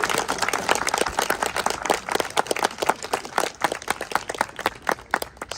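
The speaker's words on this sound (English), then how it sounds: "Should we salute IPC with a big clap?" An audience at a peace seminar marking a 100-year celebration gives a big round of clapping, dense and sustained applause from many hands throughout.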